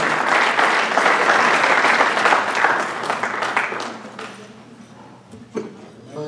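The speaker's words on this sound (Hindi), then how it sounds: "सीमा गज़ल भरपूर तालियाँ" Audience applause for the poet Seema Ghazal at a mushaira in New Jersey: dense, loud clapping that fills the hall, then thins and fades to scattered claps near the end.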